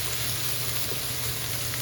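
Vegetables cook in a pan with shrimp juices, butter and oil, giving off a steady, even sizzle that holds at one level for the whole short stretch with no talking.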